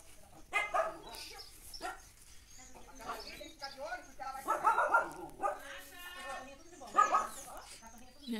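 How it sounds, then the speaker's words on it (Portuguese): Dog barking at a countryside farm property, a few short barks scattered among ongoing conversation and voices nearby. "o cachorro tá me estranhando"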